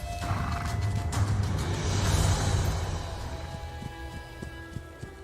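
Mongol horses gallop in the video game Age of Empires 4. Rapid hoofbeats with a whinny are loud and close at first, then fade as scattered mechanical clicks take over.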